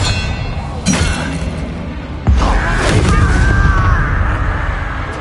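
An Expelliarmus spell cast during combat in Hogwarts Legacy lands as a loud booming, shattering burst, followed by a sustained crackling magical rush with whooshing tones over continuous game noise.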